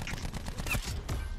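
Rapid gunfire in a video game where a player keeps getting sniped, a brief loud burst of several shots in quick succession with a sharp clicking edge.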